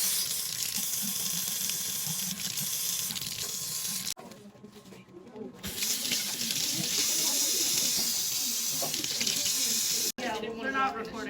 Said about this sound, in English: we're going to rinse our fruits.